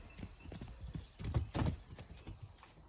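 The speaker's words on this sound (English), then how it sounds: "chasing each other around the yard here, ramming each other with their horns" Goats play in a yard, chasing and ramming each other with their horns. Quiet hoof clatter patters unevenly, then a few heavier thuds bunch together around the middle.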